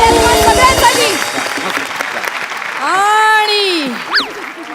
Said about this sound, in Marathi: एकदा जोरदार टाळ्या तुम्हा सगळ्यांसाठी.